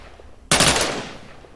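Loud gunfire in an Unreal Engine 4 video game: a sudden sharp blast or rapid burst erupts close and dominant, then rings out and decays over about a second.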